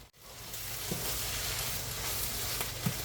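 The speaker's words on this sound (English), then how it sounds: "Now we are just going to finish stirring this up because this is done." Lumberjack hash with eggs mixed in is stirred in a frying pan, so it has become a scramble. Brisk sizzling runs throughout, with a couple of short spatula scrapes close by.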